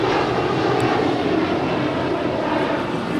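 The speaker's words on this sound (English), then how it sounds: "This is Horizon Air Flight 2321 departing to Seattle. It's a 4-year-old Embraer E175." A four-year-old Horizon Air Embraer E175 jet departs Los Angeles LAX for Seattle, giving off a loud, continuous engine roar with no break across the short stretch.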